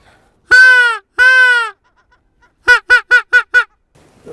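Paradise shelducks call loudly and nearby: two long drawn-out honks, a short pause, then five quick clipped notes in a fast burst.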